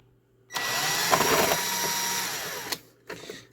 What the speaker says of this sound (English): I had to use a drill because issues.